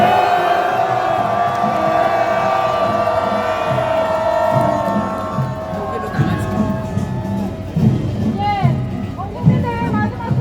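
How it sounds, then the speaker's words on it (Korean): A large crowd at a political rally roars and shouts together, a sustained loud din with a siren-like wail and scattered whoops rising above it. "우리의 외침이 용산 대통령까지 대통령실까지 닿을 수 있도록 큰 함성 부탁드립니다"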